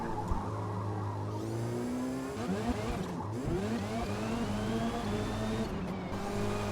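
A race car engine in Forza Motorsport at Le Mans drones steadily with rising and falling pitch as gears shift through corners, continuous and fairly quiet, with a faint whir beneath and no voices.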